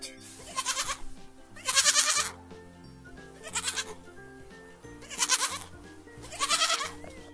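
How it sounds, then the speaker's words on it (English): A goat bleats five times in a children's phonics alphabet song, each wavering call loud and close, rising over steady background music. "G for goat."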